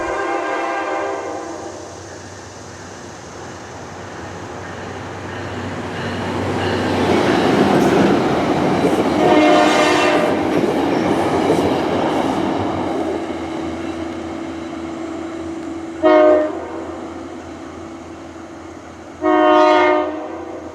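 A Metro-North shuttle train hauled by a BL-20GH locomotive rumbles past on a New England line toward Danbury, swelling and fading, followed by two loud horn blasts near the end.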